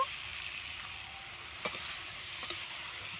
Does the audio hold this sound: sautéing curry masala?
yes